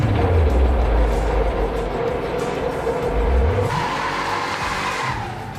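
A 1969 Pontiac GTO Ram Air 4 convertible engine roars steadily throughout, with deep low rumbling swells and a shifting pitch as it accelerates, loud and close with no talk.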